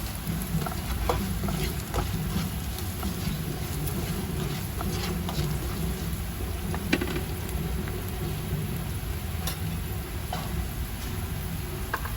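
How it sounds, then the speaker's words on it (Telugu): Onions frying in oil until golden brown for a bhindi and peanut fry, with a dense, even sizzle that holds steady throughout and light ticking stirs on top. "చూడండి, ఆల్రెడీ రెడ్డిష్ అయిపోయే ఆనియన్స్ కొద్దిగా ఇంకా గోల్డెన్ బ్రౌన్లోకి రానివ్వండి."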